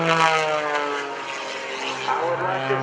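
Sean D. Tucker's aerobatic propeller stunt plane at a Rhode Island Air National Guard open house airshow, its engine droning steadily with a rich harmonic whine that swells and eases as the throttle changes, loud and continuous, with an announcer's voice faintly underneath.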